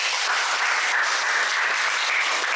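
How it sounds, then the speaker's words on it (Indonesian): A classroom of students claps for a group, producing dense, even applause that stays at a steady level throughout the short stretch. "Kita berikan aplaus buat kelompok 2."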